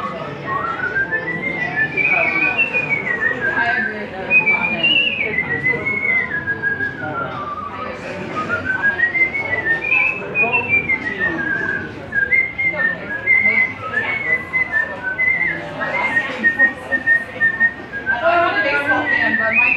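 A person whistles a Disney song, a clear continuous melody with gliding, sliding pitches that carries on steadily with only brief pauses for breath.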